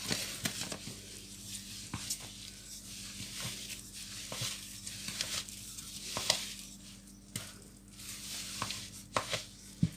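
Cake batter for a no-oven marble cake is mixed with a wooden spoon, giving faint, close, steady scraping and soft rhythmic taps against the bowl, with no voices.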